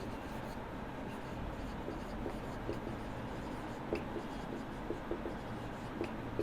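Pen or marker writing on paper or a board, working through maths, makes a steady faint scratching with occasional small taps, close and continuous over a low room hum.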